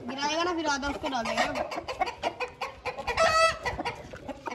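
Kandhari chickens cluck and call close by in a cage, a busy overlapping chorus of rising and falling squawks with a person speaking among them.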